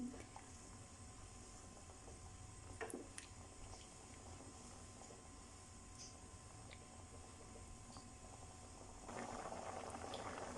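Aloo bukhara plum chutney with sugar boiling in a pot, a steady soft bubbling and popping simmer heard close and alone, growing slightly fuller toward the end.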